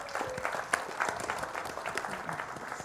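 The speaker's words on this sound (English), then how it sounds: "Please give Denise Rolark Barnes a round of applause." Audience claps for a speaker at a talk on the march and activism, a short burst of scattered applause with some voices mixed in.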